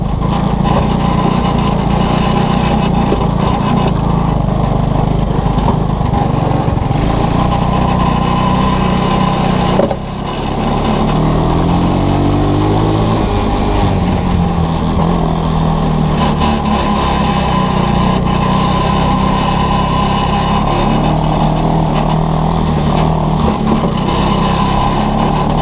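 A small ATC 200S engine powers a side-by-side go-kart off-road with no brakes, running steadily and loudly throughout, a buzzy high-pitched drone that dips briefly mid-run before carrying on close to the mic.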